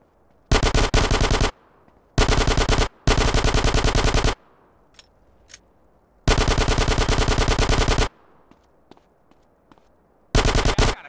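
Automatic gunfire in Grand Theft Auto San Andreas comes in long rapid bursts of several seconds each, loud and close, separated by short quiet gaps.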